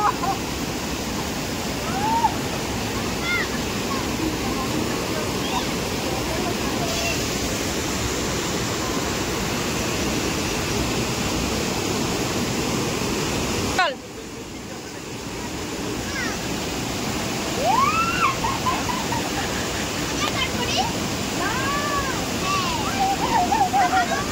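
Water of the Rongo river in a valley near Kalimpong rushing steadily in a broad, loud wash, with a brief dip midway and faint voices in the background.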